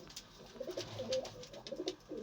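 Soft pigeon cooing from a newly paired Makhiali female pigeon sitting in a corner of a coop, low murmuring coos repeating at close range with faint background noise.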